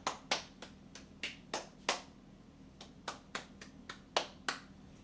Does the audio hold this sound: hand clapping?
yes